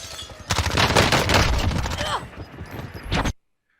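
Rapid automatic gunfire during a Warzone gunfight, dense bursts of shots in quick succession with a brief pause and a final burst before cutting to silence; a voice is faintly present.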